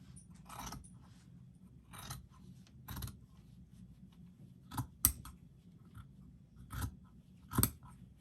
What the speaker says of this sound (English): Just start right at the corner and cut to that middle cut.